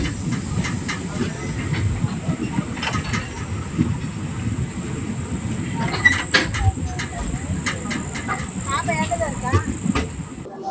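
Silambu Express train rolling toward Srivilliputhur station, a steady loud rumble and hiss of the moving carriages with scattered clicks and rattles throughout, heard from on board.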